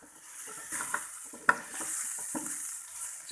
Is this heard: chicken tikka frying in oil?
yes